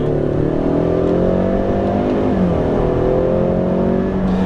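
A 2018 Ford Mustang EcoBoost with the performance pack and 10-speed automatic pulls hard from a roll at about 32 mph, its engine drone rising steadily with a brief dip at a gear change, loud and close.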